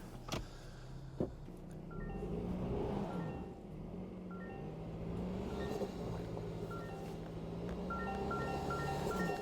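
A 2025 Toyota Tacoma Trailhunter creeps forward off-road with a low engine rumble that swells as a rear tire spins. There are a few knocks near the start and a faint whine over the drone.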